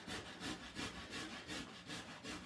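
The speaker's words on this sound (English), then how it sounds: "So do you want to grate some more of that carrot?" Carrot rubbed against a kitchen grater in quick, regular strokes, roughly two or three scrapes per second, close and clear with no talking.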